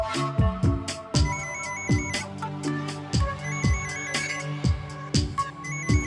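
A phone ringing in a home, a repeating electronic ringtone melody with regular chiming beats and bright tones, moderately loud and alone.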